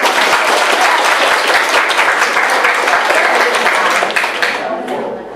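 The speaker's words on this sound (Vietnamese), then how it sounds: "mọi người hãy chào mừng một tràng pháo tay thật to" Loud, dense applause from an audience welcoming a speaker at a company talk on OKRs, sustained steadily for several seconds before thinning out toward the end.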